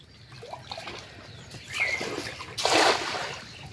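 A fishing net lands in pond water with a close, bright splash following softer trickles and drips, outdoors at a pond in the Sundarbans.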